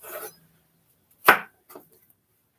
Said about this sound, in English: Now I'm just chopping them down.